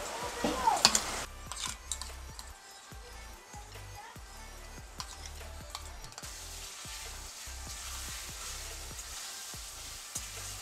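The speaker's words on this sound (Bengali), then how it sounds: "মশলাটা দিয়ে একটু নেড়ে চেড়ে হলুদ গুঁড়ো দিয়ে দিচ্ছি।" Spice paste and turmeric powder are stirred into potatoes frying in oil with cumin seeds. A steady sizzle runs throughout, broken by repeated scraping stirs and light utensil ticks, over soft background music.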